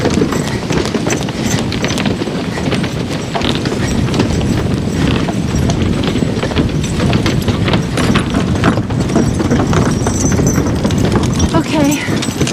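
Hooves of Belgian draft horses clip-clop steadily and closely in a busy rhythm as a team works on a logging job, with a voice talking over the hoofbeats.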